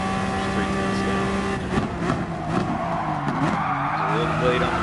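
A Honda NSX GT3 race car in GT Sport drives hard through a corner, its engine holding a steady droning tone while the tires squeal and scrub as the rear slides, with a voice talking over it.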